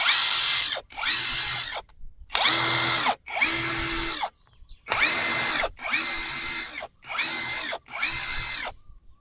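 A cheap cordless brushless impact wrench runs in repeated short bursts, each a loud whirring hammering rattle, with brief pauses between about nine bursts, close up.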